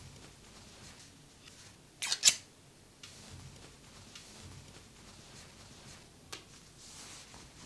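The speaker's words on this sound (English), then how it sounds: "Mark bottom corners and cut out all bag pieces." Scissors cut out fabric bag pieces for a sewing project, a few quiet sparse snips and clicks with one sharper burst of cutting, in an otherwise hushed room without voices.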